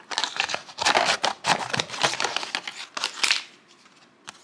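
Scissors snipping up a plastic butter container, giving a close series of crisp cuts and crinkling plastic crackles in irregular bursts, with no talk.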